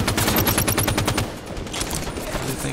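Rapid automatic gunfire from the Halo 5 beta multiplayer match rattles in fast repeated bursts, loud and close for the first half, then continuing as a denser, slightly more distant volley of shots.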